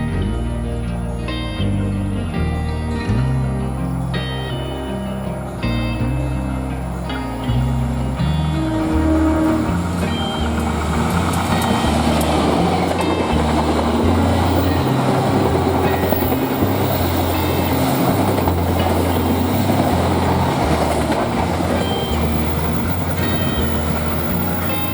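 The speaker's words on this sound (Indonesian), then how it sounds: "Kereta api Gaya Baru Malam Selatan dari Surabaya Gubeng ke Pasar" The Gaya Baru Malam Selatan passenger train on the Surabaya Gubeng to Pasar Senen line in Indonesia rumbles past with a loud, continuous roar, low mechanical drone, tonal engine hum and rising wheel-on-rail clatter throughout.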